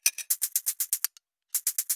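Comped percussion loops from sample packs play as a quick run of bright, crisp hits, a short pause, then the pattern resumes, close and clean with no voices.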